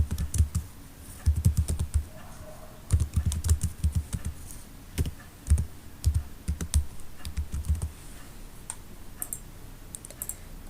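Typing code on a computer keyboard: bursts of quick, close key clicks with short pauses between runs, no talking.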